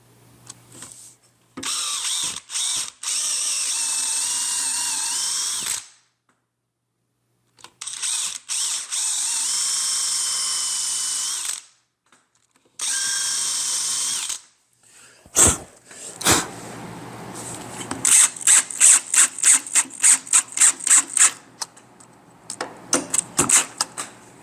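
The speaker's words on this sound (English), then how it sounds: "Drill out 2 holes" Power drill boring two dowel holes in wood for a Dowelmax shelf jig: two sustained whining bursts of a few seconds each, near and loud, followed by a run of rapid ratcheting clicks.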